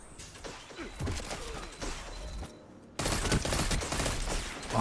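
A pulse rifle fires in Destiny 2 PvP, with bursts of sharp shots, a short lull, and then a louder, denser volley of gunfire and impacts.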